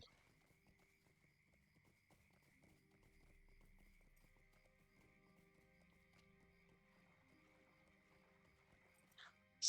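Hoofbeats of a horse ridden in the online game The Lord of the Rings Online (LOTRO), a steady low clip-clop running throughout, moderately quiet, with a faint neigh and a sharp bright sound at the very end.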